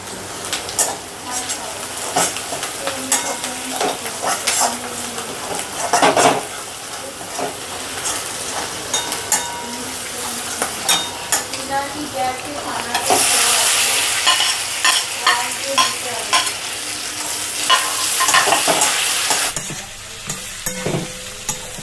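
Chicken pieces for garlic chilli chicken frying in a pan. A continuous sizzle is broken by repeated scraping and clattering stir strokes, with loud bursts where the pieces are turned.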